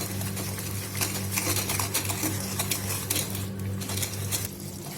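Boiling caramel stirred with ghee in a pan for caramel popcorn: a continuous, close scraping and clinking of a spoon against the pan in uneven strokes over a low steady hum, with no talking.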